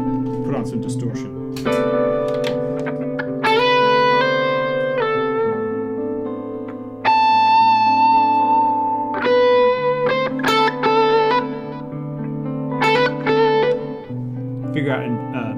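An electric guitar with heavy distortion plays sustained chords and single notes, with a gritty, ringing tone and some reverb.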